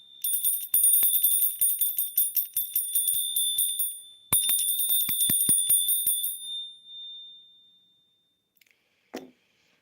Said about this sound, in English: The bell of happiness.